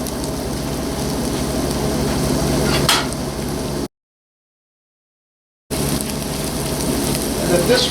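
Diced onions frying in olive oil in a pan with granulated garlic, giving a steady, close crackling sizzle that runs throughout, with a brief gap of silence partway through.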